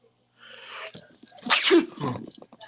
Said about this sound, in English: ooh, I had to sneeze, man.